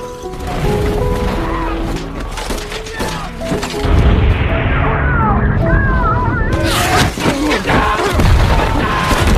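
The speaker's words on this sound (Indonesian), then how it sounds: "pasukan Jepang membuka serangan dengan menembaki para tentara Amerika" A brutal battle scene from the war film Hacksaw Ridge, with loud booming explosions and crashing, heavy impacts. Dense gunfire-like clatter fills the whole stretch, with one sharp change in texture partway through.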